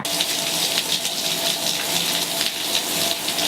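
Water pours steadily from a shower head in a continuous hissing spray that stays even and close throughout, with no voices.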